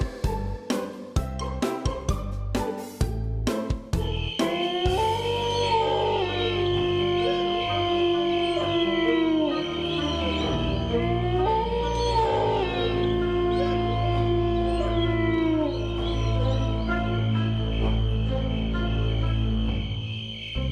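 A long, wavering howl rises and falls over a steady background hum, preceded by a burst of sharp clicks and knocks.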